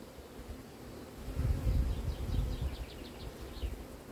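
Honey bees hum and buzz around an opened beehive while frames are being inspected, a dense close drone that swells in the middle, with faint higher chirps above it and no talking.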